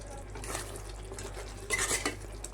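Coconut milk stirred into curry in a pan, with a spoon scraping and clinking against the metal in uneven strokes and a louder clatter near the end, no voices.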